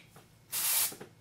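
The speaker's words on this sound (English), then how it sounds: "I'm going to spray just a little bit of the dry shampoo" A short burst of dry shampoo sprayed from an aerosol can onto hair, a single loud, steady hiss lasting about a third of a second, close to the microphone and otherwise quiet.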